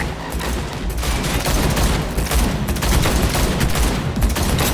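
Rapid gunfire in Cyberpunk 2077 during a vehicle chase, dense and continuous bursts of shots at close range filling the whole stretch with loud, overlapping reports.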